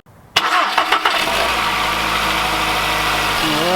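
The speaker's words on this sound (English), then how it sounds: "I'm gonna start it up just for a second to make sure it runs and sounds right" A 2011 Volkswagen Jetta 2.0L engine cranks after a timing belt and water pump replacement, catches with a sharp burst and settles into a steady close idle, then the pitch shifts slightly near the end.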